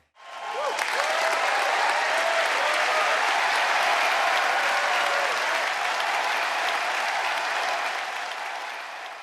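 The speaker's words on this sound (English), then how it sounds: "Graduates, please turn, face the audience, and receive their applause." An audience at a high school graduation ceremony applauds the graduates in a sustained, full wash of clapping that swells in quickly, holds steady for several seconds and eases slightly at the close.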